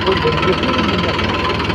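A tractor engine runs in a field where fertilizer is being spread on mustard and wheat crops, giving a steady, close, low mechanical rumble throughout with a voice talking over it.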